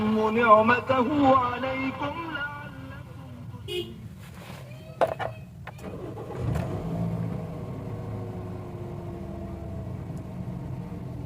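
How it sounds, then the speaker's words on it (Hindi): A Toyota Corolla with 117,268 km on the odometer starts up and settles into a steady idle, with brief revving and a short horn toot near the start, then a continuous engine hum. "गाड़ी को स्टार्ट करते हैं।"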